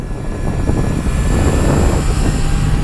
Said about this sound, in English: This engine's nice. It's never too violent, never scary, but always fun.